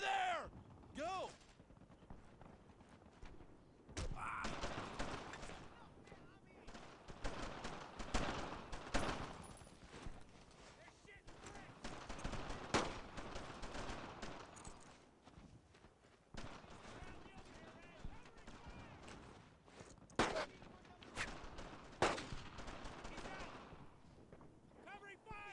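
Battle noise from the World War II shooter Brothers in Arms: Earned in Blood: dense bursts of rifle and machine-gun fire crackling steadily throughout, with shouted voices mixed into the chaos.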